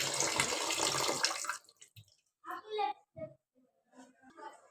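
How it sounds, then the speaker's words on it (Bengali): Running water from a kitchen tap rinsing raw beef, a bright steady splash for about a second and a half before it cuts off, followed by someone talking and a voice. "এখন হচ্ছে মাংসটা আমি ভালো মতো ধুয়ে নেব।"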